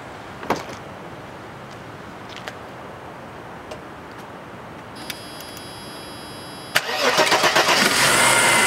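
A few faint ticks and clicks, then a 1993 Mercedes-Benz 300TE 4Matic engine cranks briefly and catches, running into a steady rumbling idle.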